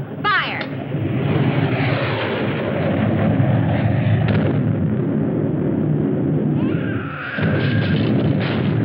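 Artillery fire from an attacking ship in a science-fiction film, a sustained heavy roar of booming blasts with a brief break near the end, loud and close, with a voice calling out over it.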